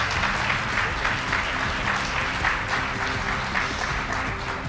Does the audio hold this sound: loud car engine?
no